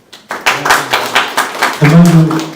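Audience applause at a Korean press conference opposing the relocation of the Suwon military airport to Hwaseong: a run of close, rhythmic hand claps that thickens into fuller clapping, with a voice speaking over it.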